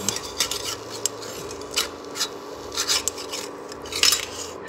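A metal spoon scraping a frying pan to lift star-shaped eggs, with short irregular scratches and clinks over a faint background sizzle, close and fairly quiet.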